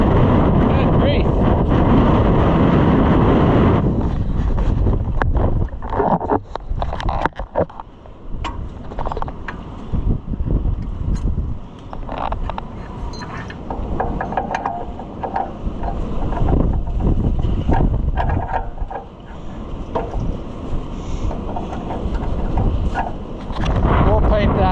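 Strong wind buffets an outdoor microphone during Fiat muffler work, loud rumbling gusts that surge and ease, with scattered clunks and a voice talking briefly.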